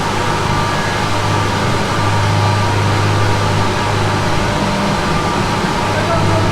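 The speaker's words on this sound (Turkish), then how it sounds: "Burada olgunlaşan zeytinler dekantör makinesine geçiyor." An olive oil decanter machine at a mill separates olive pomace from oil, giving a steady, loud mechanical hum with a low drone and broadband whir throughout, with people speaking over it.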